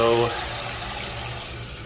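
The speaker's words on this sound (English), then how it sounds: "We have hot water coming in already." Hot water runs steadily into a Bosch Tronic 3000 T ES 2.5 electric water heater, a continuous mid-level rushing flow that follows a brief tonal hum at the start.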